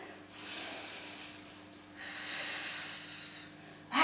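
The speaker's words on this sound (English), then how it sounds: "Breathe out." Two long, soft exhalations from a person doing an abs and shoulders workout, each a breathy hiss lasting about a second, heard close and fairly quiet with a steady low hum underneath and a brief louder rustle at the end.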